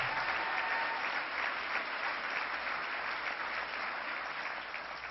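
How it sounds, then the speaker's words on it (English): Applause fills a political convention hall where Democrats gather for a New York governor nomination, steady and dense from start to finish, trailing off slightly at the end. "Let's give a big round of applause to Chairman Jay Jacobs"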